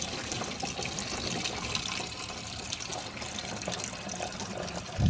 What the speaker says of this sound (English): I'm gonna pour it in the jug and save it to feed my garden.